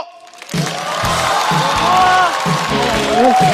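Studio audience at a stand-up comedy show bursts into loud, sustained applause and cheering to welcome a comedian onstage, steady and close throughout after a brief spoken introduction.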